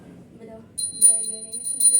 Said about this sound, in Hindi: तो ये घुमाना, घंटी बजाना, मैं गणेश जी की और लक्ष्मी जी की तरफ आरती कर लेती।